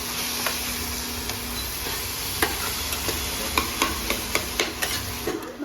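Masala stirs and fries in a pan in a home village kitchen, giving a soft steady sizzle with a row of light scraping taps from the spoon toward the end.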